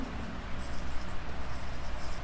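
Marker or chalk writing on a board during a trigonometry lesson, a steady scratchy scraping that runs continuously at close range with no talk over it.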